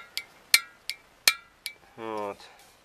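A series of sharp, bright clicks from a camping stove's piezo igniter, about six, spaced irregularly and close up, followed by a short buzzy tone.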